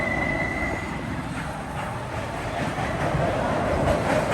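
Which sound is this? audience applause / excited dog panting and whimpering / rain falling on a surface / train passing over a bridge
train passing over a bridge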